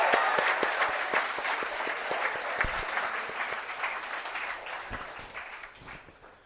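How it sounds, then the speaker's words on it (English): Audience at a postgraduate management convocation applauds the graduating students, a full, sustained round of clapping from a large crowd that slowly tapers off toward the end. "a big hand of applause to all the students, because it is because of your effort that you're here today"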